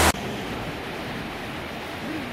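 A constant roaring rush of falling water, broad and steady like a nearby waterfall, with no talk over it, at the Golden Waterfall in Taiwan's gold country near Keelung.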